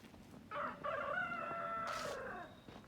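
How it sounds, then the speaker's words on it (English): A rooster crows once at a distance, one long drawn-out call lasting about two seconds, fairly faint over quiet background noise. "I bet most videos you guys here don't have as many rooster crows as mine does"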